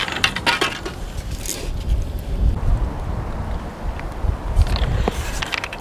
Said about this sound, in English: the wind may be making things difficult